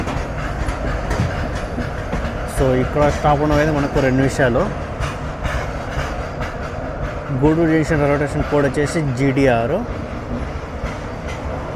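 The SMVB Bengaluru to Visakhapatnam special train sits at Gudur Junction, with a steady rail rumble and clatter under someone talking through most of the stretch.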